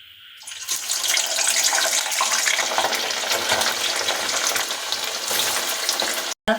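Pieces of cut paneer go into hot white oil in a kadai and fry with a dense, even sizzle that starts abruptly and stays loud and close, broken by a brief gap near the end.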